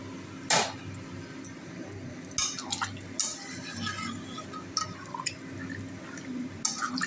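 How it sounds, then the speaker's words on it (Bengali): Water goes into a pot of papaya curry cooking on the stove, heard as intermittent splashes and drips with sharp metallic clinks of a utensil against the pot over a low, steady background. "এবার আমি জল দিয়ে দেবো"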